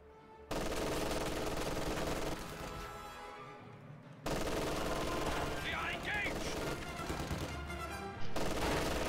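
Sustained bursts of MG42 machine-gun fire in a wartime video game, loud and dense with other battle noise, broken by short pauses and resuming several times.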